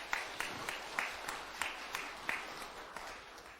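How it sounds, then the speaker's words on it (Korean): Sparse, scattered clapping rises from a temple dharma assembly audience, thin and fairly quiet, with distinct separate hand claps rather than a full ovation. "그 동참자에게도 박수 한번 보내주시기 바랍니다."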